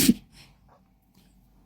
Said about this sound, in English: Sorry, that was my dog sneezing.